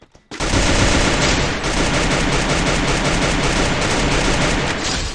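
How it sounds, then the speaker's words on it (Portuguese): Heavy, continuous automatic gunfire in a video game erupts after a brief pause and keeps rattling loud and dense for several seconds, with no pause. "Tiro pra cacete, ele tomou."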